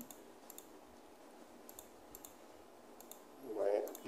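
Sparse, faint mouse clicks on a computer while working in an Excel invoice sheet, a dozen or so light isolated taps over quiet room tone, with a brief murmur of voice near the end.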